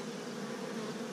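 Honeybees buzz around an open hive during an inspection, a dense, steady drone close by that holds even through the brief moment with no talking.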